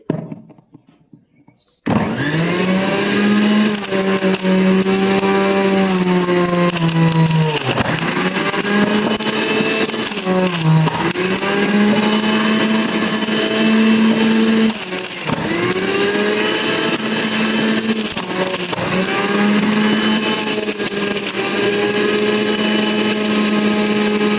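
An electric juicer grinds carrot pieces, its loud, steady motor whine briefly dipping and recovering several times as chunks are pushed through, after a short quiet start.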